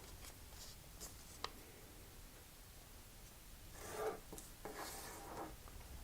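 Origami paper is handled and creased, soft rustles and scrapes close by with a few sharp taps and a louder crinkling run near the end, quiet overall.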